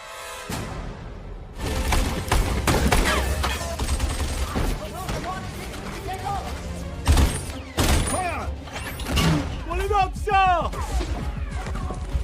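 Gunfire erupts in a World War II battle scene against German troops in the war film The Pilot, with loud, dense bursts of shots and crashes continuing throughout, mixed with shouting voices and score.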